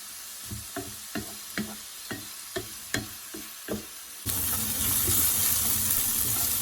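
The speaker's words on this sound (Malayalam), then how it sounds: "അതിനുശേഷം നമുക്ക് 3 സബോള കട്ട് ചെയ്തതും 1 ടീസ്പൂൺ ഉപ്പും ഇട്ട് നന്നായിട്ടൊന്ന് വഴറ്റിയെടുക്കണം" Chopped onions, garlic and ginger sautéing with salt in a pan for Kerala-style pepper chicken: a steady sizzle with a run of sharp spatula scrapes and knocks, then a louder, denser hiss of frying toward the end, close and with no voices.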